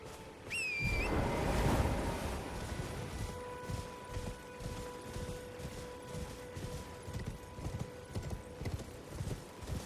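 Horse hooves clip-clop steadily in Elden Ring, a continuous rhythmic trot close up, with a brief whinny near the start over a low ambient bed.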